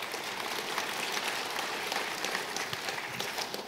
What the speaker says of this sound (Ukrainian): Давайте прославимо нашого Господа оплесками.